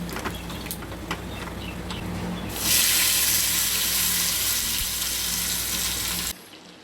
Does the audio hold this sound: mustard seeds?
yes